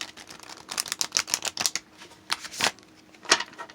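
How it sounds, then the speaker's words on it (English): Tarot cards are shuffled close by in quick bursts of papery riffling and flicking clicks, with brief pauses between the shuffles. "Got me shuffling these cards so much."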